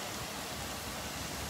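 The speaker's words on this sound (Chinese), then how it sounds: "现在还是大雨" Heavy rain on a stormy, typhoon-like weekend, a dense, even hiss pouring down steadily with no voices over its brief span.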